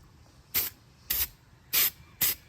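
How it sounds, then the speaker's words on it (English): Four short bursts of Steel-It bedliner coating from a spray gun, evenly spaced about half a second apart, each a loud broadband hiss with quiet gaps between. "So I'm gonna go ahead and spray with the Steel It."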